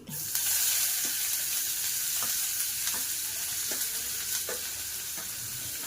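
Onion dropped into hot oil for a green apple pachadi, giving a loud, steady sizzle that rises at once and holds, with a few soft stirring taps underneath.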